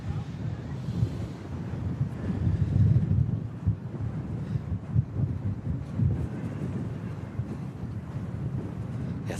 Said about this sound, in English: You can just hear it just gusting away.